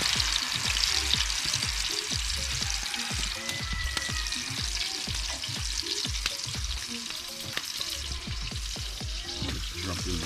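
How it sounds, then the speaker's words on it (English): Meatballs fry in hot vegetable oil in a non-stick pot, a steady, close crackling sizzle with bursts of spattering and occasional scraping and stirring throughout, no talking. "Now that it is hot, I'm actually frying the meatballs."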